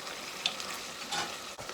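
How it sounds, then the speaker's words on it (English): Meat mixture with tomato sauce sizzles and crackles steadily in a pan, with a few stirring scrapes, close and fairly quiet with no talking. "You hear that sizzling sound?"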